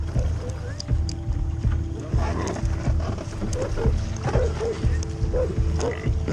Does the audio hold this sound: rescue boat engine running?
yes